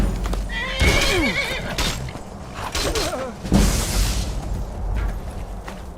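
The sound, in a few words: horse neighing in a video game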